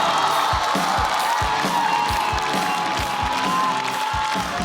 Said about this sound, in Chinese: 那我们掌声有请率先要登场的史岩